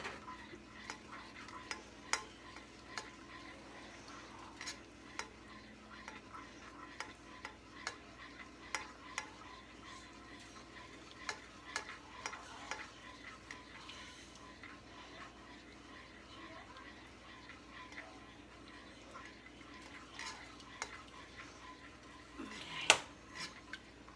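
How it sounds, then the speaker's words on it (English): Butter melts in a pot as it is stirred for cranberry popcorn, with quiet repeated clinks and scrapes of a utensil over a faint sizzle, and a brief louder knock near the end. "So we're stirring until the butter is melted, and it's getting there."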